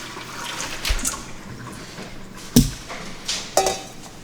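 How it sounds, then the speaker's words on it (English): Soaking water being poured off beans into a sink, a steady low trickle with a few louder splashes and drips scattered through. "So I'm just going to discard this water it was soaking in."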